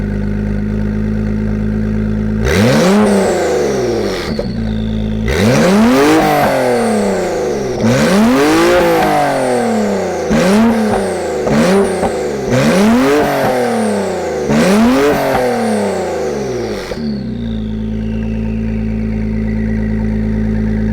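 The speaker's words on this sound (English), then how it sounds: "we're gonna fire up this NSX" A 2017 Acura NSX sports car fires up, then revs hard repeatedly, each sharp rising-and-falling blip loud and close, in a series of about seven quick revs before settling back to idle.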